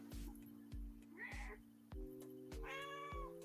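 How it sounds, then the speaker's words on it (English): An offended house cat meows twice in the background of a quiet room, rising, whiny calls separated by soft thumps and faint low hum. "You will hear a very offended cat in the background."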